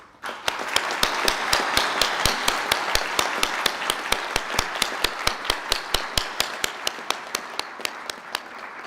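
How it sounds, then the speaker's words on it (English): Graduation ceremony audience at a hotel school clapping for standing graduates: a steady, regular run of crisp, close claps at an even brisk rhythm over a soft bed of wider hall applause, carrying on without talk. "applause."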